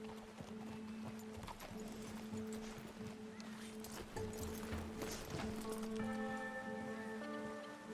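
Horse hooves clip-clop steadily in Red Dead Redemption 2, with faint whinnies and game music tones layered over a continuous outdoor ambience; no speech.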